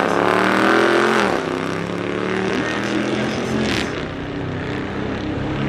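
A car passes close on a city street, its engine a steady harmonic drone that shifts pitch as it moves by, loud and continuous with a second swell of noise near the end.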